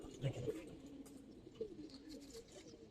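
Old-breed Giribaz pigeons coo softly in a loft, low murmuring calls repeating near and faint under a background of talk and rustling.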